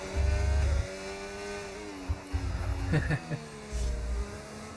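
A sim racing car in a racing video game over-revs with a buzzy engine whine that climbs in pitch and then drops. Deep low thumps come and go beneath it, and the sound is fairly quiet.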